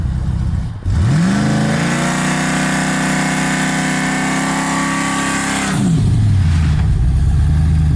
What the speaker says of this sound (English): first burnout attempt in the S10